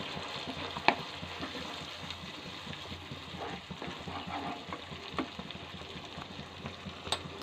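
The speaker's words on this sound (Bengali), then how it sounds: "আদার কিমাটা দিয়ে আমি কষাতে থাকবো। এবার একটু জল দিয়ে নেব" Ginger masala for dhaba-style egg tarka frying in a pan after a splash of water, a soft continuous sizzle with occasional stirring scrapes and a few sharper spoon taps.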